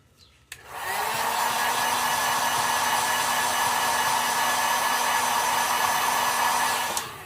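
A hair dryer heat-setting paint on a model cichlid fish switches on with a click and runs as a steady, close whir with a constant tone, then cuts off at the end.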